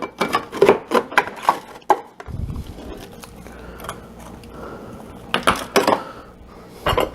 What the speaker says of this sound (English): Fill your mug up with the crushed ice.